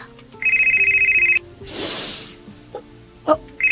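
A telephone rings with a bright electronic ringtone in a rapid pulsing burst of about a second. A breathy rustle and a couple of short clicks follow before the ringtone briefly starts again at the end.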